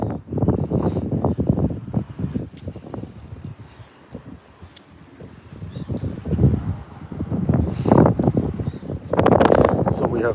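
Strong wind buffets the microphone outdoors beside seal pools, gusting rumble rising and falling throughout, while a person talks over it.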